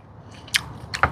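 Crunchy guso seaweed is bitten and chewed close up, giving two crisp crunches about half a second apart over a quiet background.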